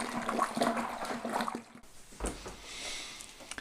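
Cold water pours into a plastic fermentation bucket during home brewing, a gushing, splashing fill that runs steadily, briefly dips, then carries on as a brighter, hissing rush near the microphone.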